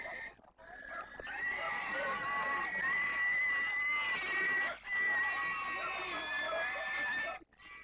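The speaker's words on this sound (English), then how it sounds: "Pigs are brought to be blessed, rather unwillingly." Pigs squeal and scream loudly and almost continuously as they are brought unwillingly to a festival sacrifice among the Apa Tani, with a few brief breaks in the shrill cries.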